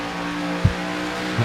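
Race car engines and tires on a concrete oval at Nashville, heard as a steady drone with a short whoosh of a car passing close and another starting at the end.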